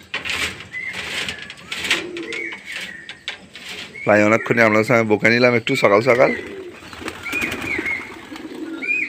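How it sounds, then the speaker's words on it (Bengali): Pigeons coo in a loud, close, rolling run of warbling calls lasting a couple of seconds as the flock is let go, with someone speaking before and after. "এবারে পায়রাগুলোকে ছেড়ে দেবো"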